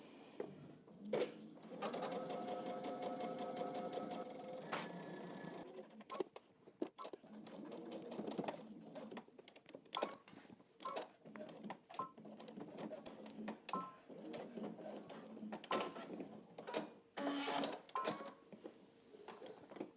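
A home sewing machine top-stitches the fly of a pair of pants, whirring in bursts of rapid needle stitching broken by short pauses, clicks and handling noises, close and clear.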